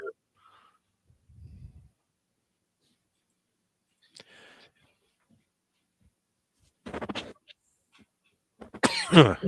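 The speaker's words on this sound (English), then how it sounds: "Having a coughing fit." Several bursts of harsh coughing separated by quiet pauses, growing louder toward the end, with a faint click in between.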